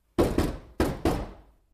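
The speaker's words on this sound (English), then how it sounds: "Uncle Vernon knocks on the glass," Four firm knocks on the glass of a snake enclosure, in two quick pairs, each hit loud and close with a short hollow ring.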